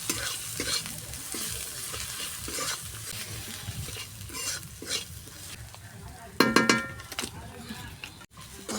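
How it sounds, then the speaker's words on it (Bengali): Ground spices including chilli powder, coriander and cumin stirred and fried in oil in a pan for mushroom curry, a steady close sizzle with scraping stirs and a few sharp metallic clinks of the spoon near the end. "এবার ভালো করে নেড়ে চেড়ে কষিয়ে নেব"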